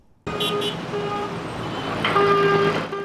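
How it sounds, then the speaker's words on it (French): Car horns blare in busy road traffic, several overlapping honks layered into one long sustained blast over a steady rumble of engines. "Coups de klaxon violents, injures à la volée, gestes obscènes."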